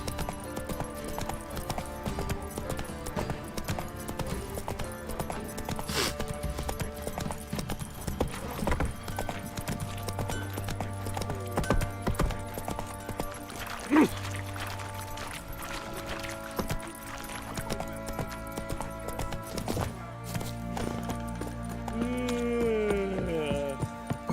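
Roach the horse's hooves clip-clop steadily in The Witcher 3, a rhythmic gallop with occasional whinnies over low game ambience, mid-distance and moderately loud.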